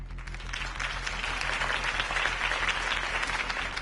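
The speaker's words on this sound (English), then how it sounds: "could have heard that applause" A crowd applauds after a campaign speech in Batman: The Telltale Series, dense steady clapping of many hands throughout, moderately loud and without speech.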